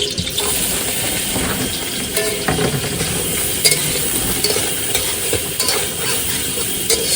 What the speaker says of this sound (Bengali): প্রথমে ভাজা করে নিতে হবে সয়াবিনটা।